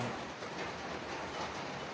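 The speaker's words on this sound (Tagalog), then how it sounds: "Pakita ko sa iyo ang malakas ulan." Steady rain hisses continuously, a dense wash of drops falling on surfaces with no voices.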